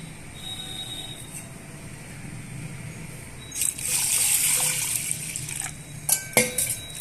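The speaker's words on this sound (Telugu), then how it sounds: "ఈ కందిపప్పుని నీళ్లు పోసుకొని శుభ్రంగా వాష్ చేసుకుందామండి" Water is poured over toor dal and swished, trickling, then a louder rush of splashing and sloshing as the lentils are washed, with a few clinks near the end.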